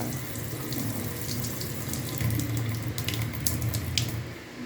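A newly installed kitchen sink faucet in an outdoor dirty kitchen runs in shower spray mode, giving a steady, close hiss of water that swells slightly partway through, with no talking over it.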